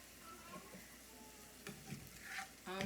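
Spiced beef for a Turkish dish sizzles in a pan as it is stirred, a steady close frying hiss with scraping bursts from the spoon near the end.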